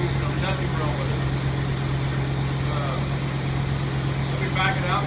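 Steady idle from a warmed-up International Scout 800A after a cold start, an even low engine drone running under a voice throughout.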